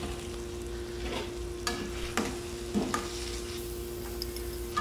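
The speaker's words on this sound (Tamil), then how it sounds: "தக்காளி ஆட் பண்ணி விட்டு நல்லா கிளறி விடணும்" Tomatoes, onions, green chillies and curry leaves stirred in a pan for shrimp thokku, with steady soft sizzling under a few louder scraping strokes of the spoon at irregular intervals; no one speaks.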